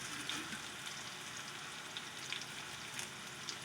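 Onions frying in a pan with cumin and green chillies, a constant close crackling sizzle with occasional sharper pops, heard alone with no voices over it.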